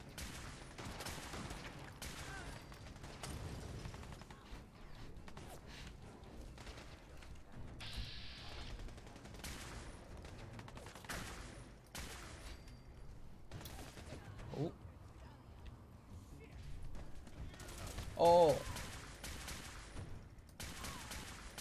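Bursts of gunfire from a gun in the video game Fallout 4, scattered sharp shots and short volleys across a firefight, one louder blast near the end, with someone talking between them.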